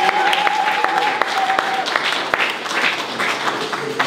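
Applause rises from a congregation gathered for a Christmas church celebration, steady clapping under a voice that keeps speaking and a sustained musical tone.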